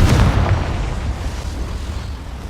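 A booming spell explosion from the Hogwarts Legacy video game erupts loud and close, then trails off into a rumbling, fading roar with no voices over it.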